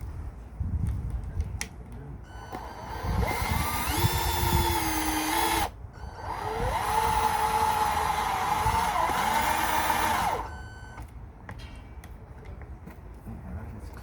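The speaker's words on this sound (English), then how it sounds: "let's go ahead and make the hole here for the" A power drill bores a hole for a propane pipe in a Honda EU2200i generator during a conversion. Two long, loud, steady whining runs are separated by a short pause, with the motor pitch shifting slightly as it cuts.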